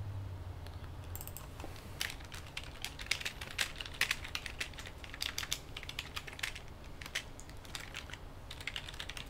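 Someone types steadily on a computer keyboard, with quick irregular clicks and clacks close to the microphone against a quiet background, no voices.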